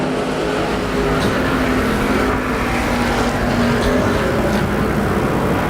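IMCA stock cars race around Arizona Speedway, engines roaring loudly and steadily together as the pack runs down the back straightaway, a continuous close, droning growl.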